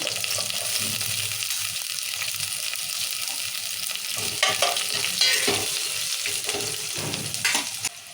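Onions with red and green chillies frying in a pan for a quick rasam make a close, steady sizzle, with stirring scrapes and clatters growing busier in the second half.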